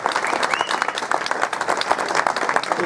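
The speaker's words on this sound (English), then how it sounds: "Massive round of applause for the guys at Nottingham School of Boxing as well." A dinner-event crowd at an Amir Khan evening breaks into full, lively applause for a boxing school's team, with dense continuous clapping and a faint murmur of crowd noise beneath.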